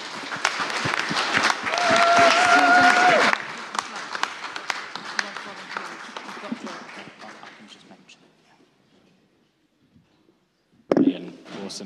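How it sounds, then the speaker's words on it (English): Applause from a church congregation at a Sunday service, loud and dense for the first few seconds, then thinning into scattered claps and fading to near silence, with a short burst of noise near the end. "Another round of applause for tea, I think."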